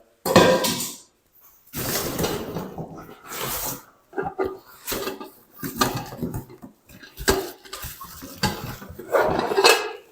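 Cookware pots and pans, including a saucepan, being handled in a kitchen, with repeated metallic clanks and clatters in irregular bursts separated by short pauses, fairly close.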